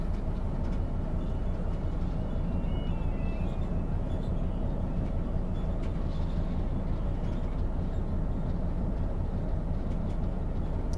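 A Class 66 freight locomotive coasts along in the Train Sim 2021 game, giving a steady, continuous low rumble and rolling noise with no spoken voice over it.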